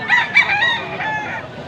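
Bull stag roosters crow loudly and close at a rainy poultry market in Angeles, Pampanga, several overlapping crows rising and falling over a dense background of other birds.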